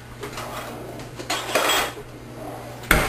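Spaghetti noodles are stirred into an egg and cheese mixture in a bowl, giving a few scraping, clinking utensil-against-dish sounds in irregular bursts, with a sharper knock near the end.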